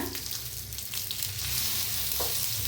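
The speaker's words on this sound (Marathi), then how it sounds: "दोन्ही साईडने आणि भाजून घेऊया आपण बघा आणि फिरवून भाजूया आपण" Brinjal slices sizzling steadily as they roast on a hot tawa, a continuous close frying hiss with a brief scrape as the slices are turned over, with no talking.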